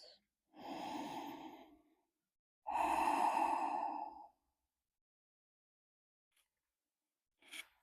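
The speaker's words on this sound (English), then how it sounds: "Just a few more deep breaths." Deep, slow breaths during a yoga session: two long, close exhalations a couple of seconds apart, then silence and a brief faint breath at the end, with no talking.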